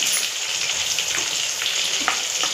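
Chicken 65 pieces frying and browning in hot oil give a steady, close sizzle with a few sharper pops and crackles, with no voices over them.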